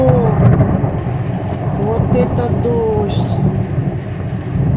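Thunder rumbles low and steady through a rainstorm, with someone talking briefly over the heavy, continuous roll.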